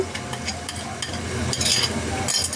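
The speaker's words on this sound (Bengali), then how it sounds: "মশলাটা একটু কষিয়ে নেব" Spices sauté in hot oil with fried onion and garlic for a spicy chicken kosha, giving a steady close sizzle with scraping stirs and a few light utensil clicks.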